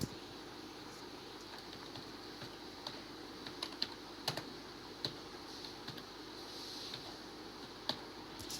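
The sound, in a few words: typing on a computer keyboard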